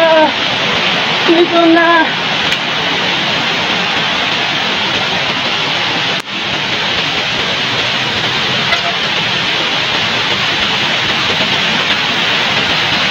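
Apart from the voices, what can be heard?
Tinuy-an waterfall rushing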